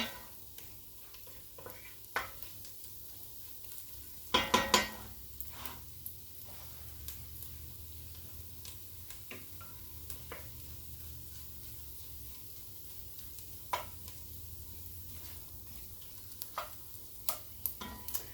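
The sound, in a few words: garlic, onions and tomato paste sizzling in a pan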